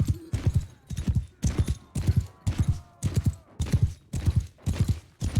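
Horse hooves gallop in Mount and Blade Bannerlord, a close, loud, rhythmic pounding of evenly spaced beats that carries steadily from start to finish with no talk.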